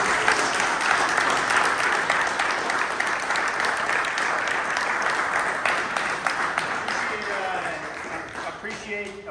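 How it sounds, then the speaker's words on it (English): Audience at a public forum on cannabis in the Kingdom claps loudly and continuously for most of nine seconds, tapering slightly toward the end as a voice begins speaking over it. "I'll just ask that we hold off on the clapping"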